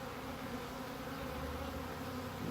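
Honey bees from a 3-pound package buzz in a steady, continuous drone, faint but unbroken, with no voices.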